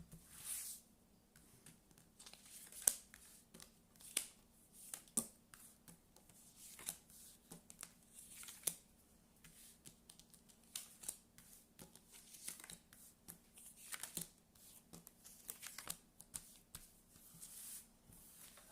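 A deck of tarot cards is cut and shuffled up close, with soft papery riffles, slides and light taps coming in irregular bursts at a very quiet level.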